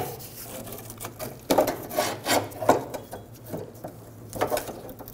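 Stuck rubber being peeled off the fuel tank of a 2007-2011 Toyota Camry, heard as close, quiet rubbing and tearing scrapes in irregular bursts.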